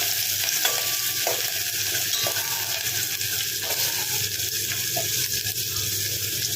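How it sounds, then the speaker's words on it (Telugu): Onion, green chillies and curry leaves sizzle in hot oil in a pan while a spoon stirs them with steady scraping strokes, close and fairly loud, with no voices. "ఇప్పుడు ఒకసారి కలుపుకోండి."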